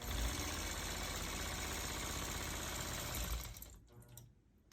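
Long-arm quilting machine stitching a disappearing nine-patch quilt, a quiet rapid mechanical hum that runs steadily, then slows and fades near the end.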